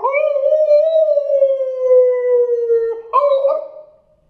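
A dog howls in one long, steady, sustained note that bends slightly in pitch, then rises into a brief second yelp-like howl before trailing off; close and loud, with no talking.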